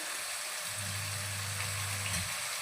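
Chicken stirred and fried in a pan with curry sauce, giving a steady soft sizzling hiss with a low humming tone in the middle and faint stirring, no voices.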